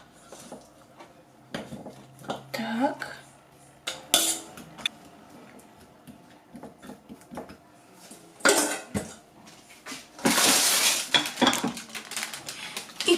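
A seasoned pork loin is laid into an ovenproof baking dish, bringing scattered clinks and clatters of dishware and utensils in separate bursts, loudest in a scraping rattle near the end, with a single short spoken word.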